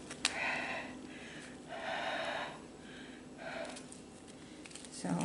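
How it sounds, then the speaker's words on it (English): Someone blows breath into bags as kit is prepared, with several long, breathy puffs in a row, close and fairly soft, and no speech. "I think I'll just start blowing in the bags just in case"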